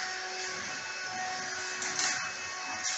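A household vacuum cleaner runs indoors on its first use, giving a steady, fairly loud motor whine with a broad rushing hiss. It holds constant throughout, with small shifts in the airflow and no speech.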